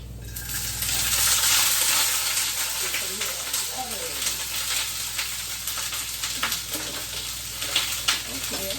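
Whole fish dropped into a pot of hot olive oil, giving a loud bright sizzle and crackling frying that swells early and keeps spitting and popping throughout, with a voice speaking over it.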